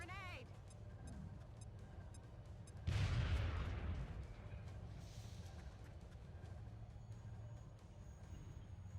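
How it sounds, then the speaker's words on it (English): A grenade detonates in the turn-based game XCOM: Enemy Within, a sudden heavy boom that decays over a couple of seconds amid quiet game ambience, with no talk in the clip. "we just gotta chunk the grenade"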